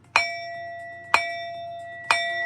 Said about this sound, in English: I need to ring the bell for you. 3 loud sounds, all right?